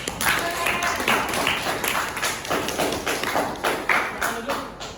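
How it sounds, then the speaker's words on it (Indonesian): Classroom of students clapping for classmates who presented, a quick, scattered patter of hand claps at moderate volume that continues for several seconds. "Oke, tepuk tangan untuk yang sudah tampil."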